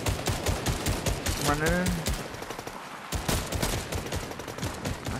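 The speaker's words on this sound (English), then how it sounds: "Me. I'm shooting." Rapid bursts of automatic gunfire fill a video game shootout, loud and nearly continuous, with a player's voice speaking briefly over the shots.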